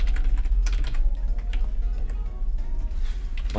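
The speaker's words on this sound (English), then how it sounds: "I was just typing that" Rapid keyboard typing on a computer during a city-naming quiz game, close and steady with irregular clicks across the whole stretch and no talk over it.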